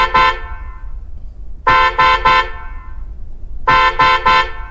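A car horn honks in three bursts: one blast, then two groups of quick double and triple toots spaced about two seconds apart, loud and close, with no talk.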